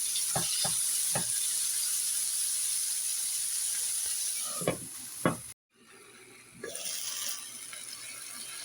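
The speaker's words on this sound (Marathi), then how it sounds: "टोमॅटो आता आपल्याला पूर्ण मऊ शिजवून घ्यायचे आहे" Tomatoes cook down until soft in a hot pan, giving a steady close sizzle and hiss with a few scraping stirs of a spoon and a brief drop to quiet partway through.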